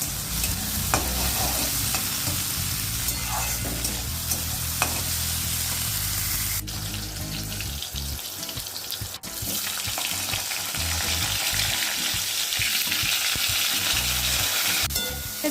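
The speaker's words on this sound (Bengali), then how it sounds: "একটু পটল ভাজা আর বেগুন ভাজা করলাম আর উচ্ছে ভাজাটা করছি" Sliced bitter gourd frying in oil in a home pan, a dense continuous sizzle and crackle with stirring and scraping of a utensil, close and loud, no talking.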